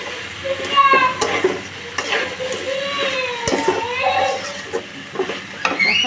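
Fish head with Malabar spinach being sautéed and stirred, a continuous moist sizzle under repeated spatula scraping, with a faint voice and some tonal background sounds mixed in.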